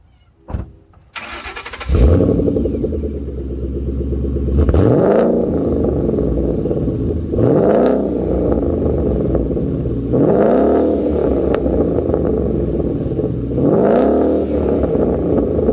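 A 2012 Ford Mustang GT 5.0 V8 with a Roush axle-back exhaust starts with a sharp crank, then idles deep and throaty, with several loud rumbling revs swelling and falling every couple of seconds.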